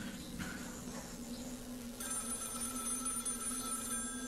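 A telephone rings inside a phone box in a video game, a faint repeating electronic bell over a low background drone, with no talk.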